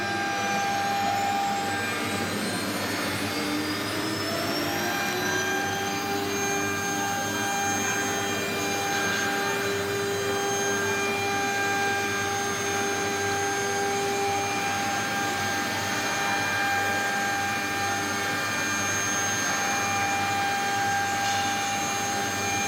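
A CC-MS3020K12 CNC baluster milling machine's spindle runs with a steady, loud high-pitched whine and a rising tone early on, holding an even mechanical drone throughout with no talking.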